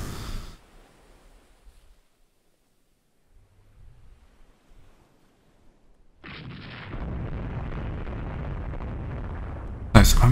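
Naval gunfire on a merchant transport ship in the naval strategy game Rule the Waves 2, heard as a sustained rumbling roar of guns and sea noise after a quiet stretch, ending in a sharp loud blast.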